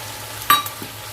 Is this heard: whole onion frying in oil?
yes